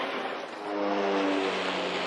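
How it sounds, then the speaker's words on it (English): Aircraft engines on a passenger jet about two minutes from landing in Luxembourg whine and roar loudly, with steady tonal droning that rises slightly as they malfunction, a continuous dense rush with no talk. "Something has gone wrong with the engines."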